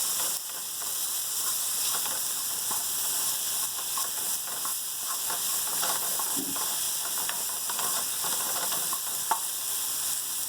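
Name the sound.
zucchini pasta cooking in a pan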